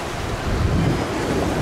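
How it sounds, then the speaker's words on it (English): Ocean surf rolling onto the shore at Key West, a steady broadband wash of waves with wind buffeting the microphone, loud and continuous throughout with no voices. "might as well get a shot of the ocean"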